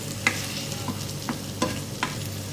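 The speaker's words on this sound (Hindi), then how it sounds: "तमाम चीज़ों के साथ मैंने भिंडी को मिक्स कर दिया है।" Okra stirred and cooking with spices in a pan for bhindi sabzi, a soft steady sizzle with four distinct scrapes of the spatula spaced about half a second apart, close-up and without speech.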